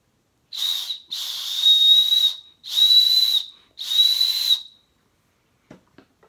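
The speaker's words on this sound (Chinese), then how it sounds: "用桃子的核仁做口哨，它这边有个洞，这边有个洞，" A whistle made from a peach pit, blown in four shrill, steady blasts with short gaps between them, close and loud, followed by a couple of faint clicks.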